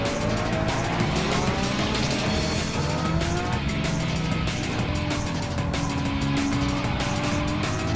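A tightly packed pack of sports cars racing in a Challenge Series event, engines droning loudly and continuously with rising and falling revs, layered whines and occasional tire squeal, all close and dense throughout.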